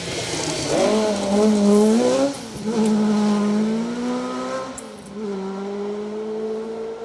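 A Ford Escort Mark II rally car on a stage of a British rally, its engine howling loud and close as it revs up and shifts through gears, with tyre noise beneath.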